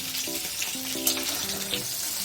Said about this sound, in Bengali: হালকা একটু ভেজে নেব।